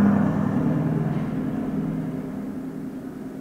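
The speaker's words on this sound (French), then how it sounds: "Je crois que ce bruit-là était pas très normal pour un camion" A passing truck making an unusual noise, a loud, steady low rumbling drone that slowly fades as it moves away, with no voices.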